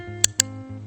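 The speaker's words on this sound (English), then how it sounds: "So I personally use a clicker like this, and it just sounds like this." Two sharp clicks from a dog training clicker about a sixth of a second apart, crisp and close, over a steady low hum in the background.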